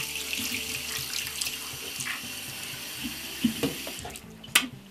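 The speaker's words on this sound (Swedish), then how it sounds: "Tvätta alltid med händerna med tvål och vatten." Hands are washed with soap under a running tap, steady faucet water splashing into a sink with soft rubbing and a few small knocks near the end, close and moderately loud.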